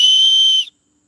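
One loud, steady, shrill blast from a dog-calling whistle out in a field, held for over half a second, then cut off into silence.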